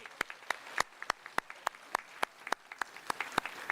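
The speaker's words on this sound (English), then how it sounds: "let's clap for that GPA" Scattered, quiet applause at a university welcome ceremony for the incoming class's GPA, individual claps spaced out and distinct, fairly faint and sparse rather than a dense ovation.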